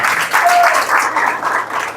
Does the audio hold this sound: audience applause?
yes